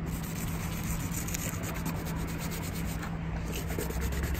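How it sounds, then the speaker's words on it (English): Wet 600-grit sandpaper is rubbed over a rusted spot with steady, continuous scraping strokes, close up and uniform throughout. "have to sand with around like 600 grit of wet sandpaper"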